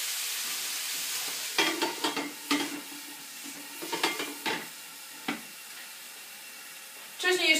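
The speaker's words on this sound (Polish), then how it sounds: "I mieszamy. Tak jeszcze przez 3 minuty dusimy." Vegetables stewing in a pan for a Chinese dish, stirred with a utensil: a steady soft sizzle runs throughout while clattering scrapes and knocks of stirring come in irregular bursts, close by.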